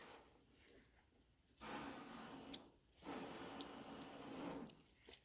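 Tap water runs into a sink in steady gushing bursts, stopping briefly twice before flowing again, close and fairly loud.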